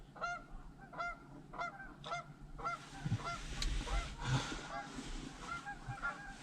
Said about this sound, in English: Oh, geese even coming in.